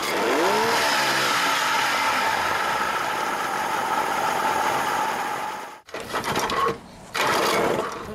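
A small Raider Model 50 outboard boat engine sputters to life and settles into a steady, buzzing idle that runs loud and constant, then cuts out briefly before resuming.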